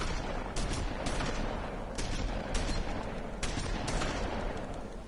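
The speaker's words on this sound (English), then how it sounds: "just walking forward through a hail of gunshots" Gunfire in The Wolf Among Us, a continuous hail of shots with several sharper bursts standing out over a dense, steady barrage, heard fairly faint and without talk.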